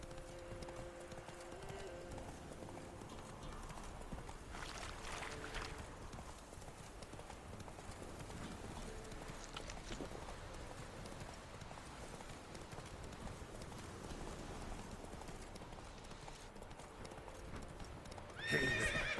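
Horse hooves from The Witcher 3 game beat a steady clip-clop at a gallop, with a whinny, layered over continuous in-game ambience and held at an even, close level.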